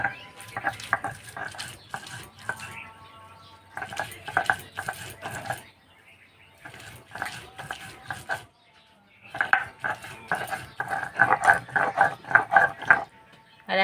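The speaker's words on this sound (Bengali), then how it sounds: "এবার ভেজে রাখা টমেটো আর পেঁয়াজ বেটে নেব।" Fried tomato and onion being ground into a coarse paste for a Bengali fish bata, heard as bursts of clattering, scraping stone-and-utensil knocks separated by brief pauses, close and fairly loud with no talk.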